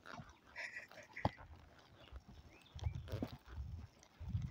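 A horse shifts and steps about, its hooves clopping in a few soft, uneven thuds nearby, with faint rustling and no talk.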